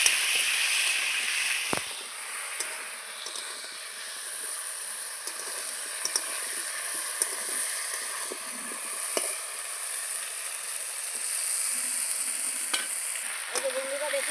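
Potatoes frying in oil with salt and turmeric for a thin fish curry, a steady bright sizzle with occasional stirring scrapes and clicks running throughout, close and moderately loud, with no talking.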